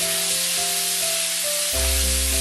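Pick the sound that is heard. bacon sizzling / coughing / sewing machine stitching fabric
bacon sizzling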